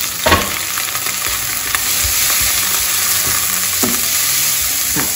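Chopped onion frying in a pan, a steady loud sizzle with occasional scraping stirs, close up and without talk.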